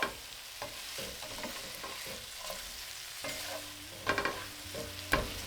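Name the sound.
stirring meatballs simmering in thickened sauce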